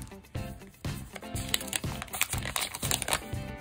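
A plastic gacha capsule toy from a machine inside Shinjuku Station, holding a Yamanote Line souvenir figure, is twisted open and unwrapped with close, busy crinkling and crackling in bursts.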